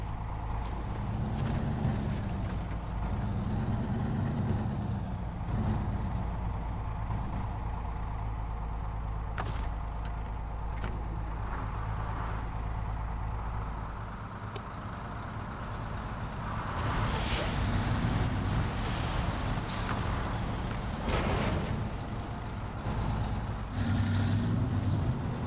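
Heavy truck engine drones steadily in Snowrunner, with loud hissing bursts of air brakes near the end over the continuous engine rumble.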